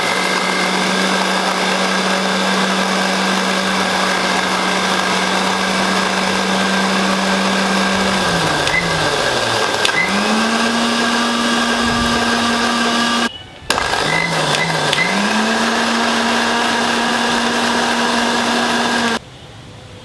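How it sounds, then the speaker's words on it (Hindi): An electric mixer grinder grinding neem leaves runs loudly and steadily for a long stretch, its motor pitch dipping briefly as it labours and cutting out twice for a moment. "अब मैं मिक्सी में अच्छे से नीम के पत्ते को पीस लेता हूँ।"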